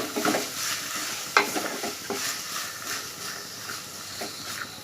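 Green masala being stirred into a chicken filling in a pan makes repeated scraping strokes of a spoon against the pan over a soft background sizzle, moderately loud and close.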